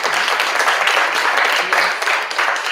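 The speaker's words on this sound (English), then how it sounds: "Yes, we can clap for that." An audience claps at a monologue competition, a dense, steady burst of many hands that fills the whole stretch without any voices over it.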